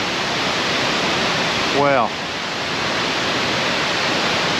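Nandroya Falls, a tall waterfall in Far North Queensland, roars as a steady broadband rush from a distance, with a brief exclamation from a person partway through.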